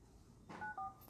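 Telephone dialing tones from an office call that goes unanswered: two short beeping tones in quick succession, faint, following a brief rustle.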